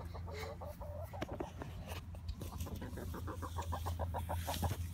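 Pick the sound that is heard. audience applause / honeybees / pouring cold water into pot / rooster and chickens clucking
rooster and chickens clucking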